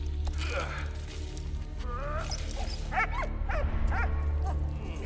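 A dog in the Valiant Hearts video game gives short barks and high, wavering whimpers and yips over a steady low game soundscape, close and moderately loud.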